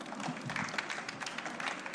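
An audience at a talk on access to drinking water gives a brief burst of clapping, a soft, dense patter that stays fairly steady throughout.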